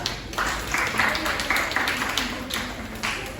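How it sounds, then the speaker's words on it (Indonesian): A classroom full of people clapping steadily, a dense patter of many hands that continues without pause. "Silakan tepuk tangan buat Mbak Anissa."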